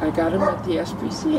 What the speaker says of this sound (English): A little dog that has a big bark.